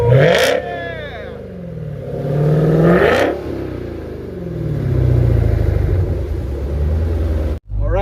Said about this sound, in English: The GtHaus exhaust is installed, and it sounds amazing.